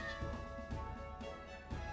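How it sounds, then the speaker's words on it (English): A cat meows four times in a steady rhythm, about every half second. Each cry is tonal and clear, close and moderately loud, with no speech. "That's a cat."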